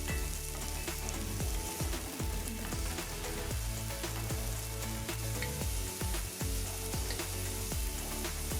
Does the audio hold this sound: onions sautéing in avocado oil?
yes